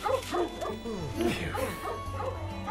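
A dog in the Lego Pirates of the Caribbean video game gives a quick series of high yips and barks with whimpering tones, close and clear against a faint game-music background.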